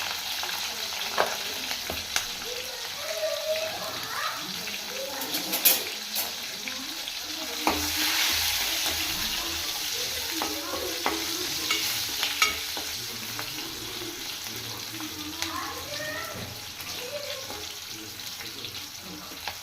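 Green chillies fry in hot oil with a steady close sizzle, broken by occasional utensil clinks and stirring scrapes, with a brief louder hiss partway through.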